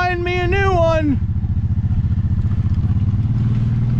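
A side-by-side utility vehicle engine chugs along close by with a steady, pulsing rumble as it drives on a farm, and a brief high vocal sound rises over the start.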